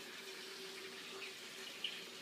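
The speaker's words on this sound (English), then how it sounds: "I'm currently draining the water right now." Water drains from a DIY 100-gallon aquarium display tank with a soft, steady rushing trickle, faint and continuous, without talking.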